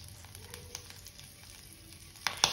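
Mustard seeds, urad dal, cumin, asafoetida, dried red chillies and curry leaves fry in hot oil for a tempering, giving a faint, steady sizzle, with a couple of sharp pops near the end.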